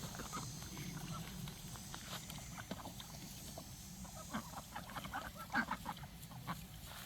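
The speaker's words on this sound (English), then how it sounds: "the ducks are getting their water" Ducks on a homestead splashing and dabbling in a water container, with soft quacks and irregular watery slaps and drips at close range, mixed with some light background noise and no clear talking.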